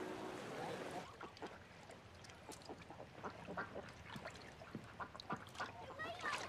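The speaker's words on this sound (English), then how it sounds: "See that duck?" A duck on the water gives a series of short, scattered quacks and calls at moderate distance over a quiet outdoor background, with brief speech at the start.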